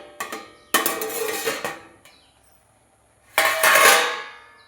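A lid comes off a cooking pot with a metallic clank and rattle, followed by a rush of steam and bubbling, then a second loud burst of hissing after a short quiet pause.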